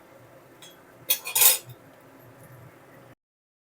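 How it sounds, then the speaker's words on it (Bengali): Fried potato and jackfruit pieces stirred into masala in a pan: a short burst of metal spoon scraping and clattering against the pan over a low sizzle, then sudden silence. "এঁচড় আর আলু একসাথে মশলার সাথে আবারও ভালো করে এক থেকে দু মিনিট ভালো করে কষিয়ে নেব"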